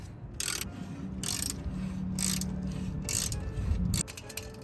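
A motorcycle chain adjuster is tightened with a tool during a chain replacement. About five close, rhythmic bursts of ratcheting clicks ring out over a low mechanical rumble.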